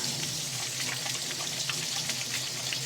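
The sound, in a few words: hands being washed under running tap water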